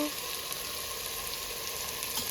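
Tamarind, tomato, green chili, onion and ginger fry in a pan for a shrimp dish, a constant close sizzle that stays even and unbroken throughout.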